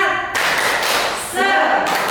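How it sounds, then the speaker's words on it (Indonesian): A group of teachers at a school workshop performs a rhythmic spirit clap, quick patterned claps and thumps in short bursts with voices chanting along close by. "Tepuk semangat."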